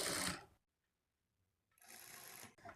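A sewing machine stitches a blouse lining, folding the seam toward the presser foot, in two loud bursts of running motor whir separated by a second of near silence.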